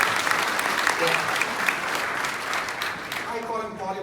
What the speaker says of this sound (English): can we give a first big round of applause for Paul and Julie?